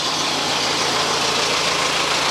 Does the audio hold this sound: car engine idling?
yes